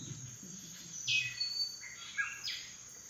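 A male bird in Indonesia calls for females with a few high, thin whistled notes over a quiet, steady background hum, moderately distant.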